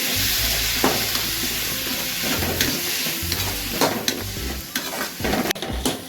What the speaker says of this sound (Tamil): இப்போ இதில் வெங்காயம், தக்காளி, பிரண்டையெல்லாம் நல்லா வதங்கிருச்சு.